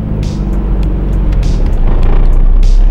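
A Nissan R32 Skyline engine revs loudly up close as the car accelerates, a continuous heavy roar that rises slightly in strength, with no talking.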